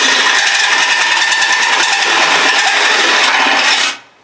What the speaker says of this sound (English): I started this hole by just starting the drill bit like that, and then I eased in slowly